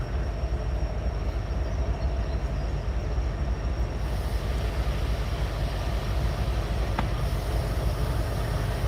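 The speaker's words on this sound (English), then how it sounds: "right now, locomotive 4196 is rolling into view" Norfolk Southern locomotive 4196 rolls past with a steady low rumble and continuous wheel and rail noise, loud and close, holding an even roar with a faint high tone above throughout.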